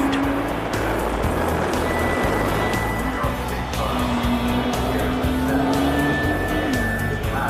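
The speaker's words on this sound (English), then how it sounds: "the Nissan GT-R Spec V feels very much at home let loose on an English country road." A Nissan GT-R Spec V drives on an English country road at the Goodwood Festival of Speed, its engine a steady, loud drone with a rising whine, close by and continuous.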